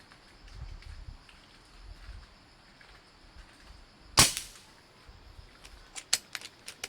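One sharp, loud shotgun blast from 18-gauge ammunition being tested outdoors, standing out against quiet background noise, followed by several small light clicks.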